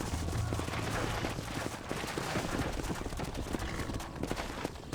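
Horse hooves clip-clop steadily in the video game Red Dead Redemption on PS5, mixed with bursts of gunfire and a busy, dense game soundscape throughout.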